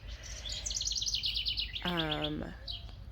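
House wrens sing in a garden beside a birdhouse, a rapid run of high, bubbling chirps followed by a louder descending trill, fairly close and clear over faint background noise.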